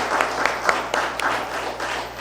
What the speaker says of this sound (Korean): 자, 우리 이상혁 대표님의 아주 임팩트 있고 멋진 강의 감사드리면서 큰 박수 부탁드리겠습니다.